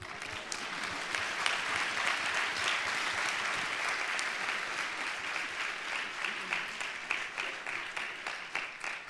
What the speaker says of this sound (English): You should clap then.